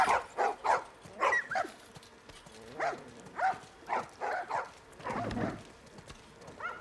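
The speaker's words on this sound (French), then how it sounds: "Oh, les chiens." Dogs barking in the video game The Last of Us, a series of short repeated barks and yelps in uneven bursts, fairly close and moderately loud, with no talk over them.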